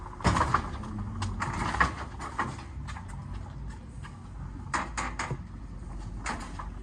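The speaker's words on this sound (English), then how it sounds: "You'll push the cart on the liftgate." A cart rolls onto the liftgate of a cantilever dry van, with scattered clunks, rattles and metallic knocks at moderate volume, irregular and fairly close.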